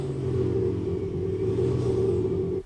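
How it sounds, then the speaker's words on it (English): A low, steady fake engine sound played through a BMW's cabin drones, smooth and synthetic, holding even before fading out at the end. "Sometimes they're crappy fake engine noises."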